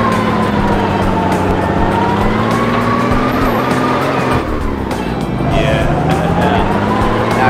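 Tow truck driving in the Turbo Dismount video game, a steady loud engine drone with shifting pitch running throughout, with faint tire squeal and crash noise mixed in.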